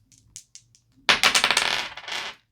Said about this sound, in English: So let's get our dice and see.